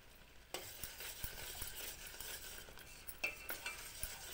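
A spoon stirs a kalakand milk mixture in a pan over low heat, scraping the sides back in with soft, steady scraping and sizzling broken by scattered sharp clinks of the spoon against the pan, with no talk.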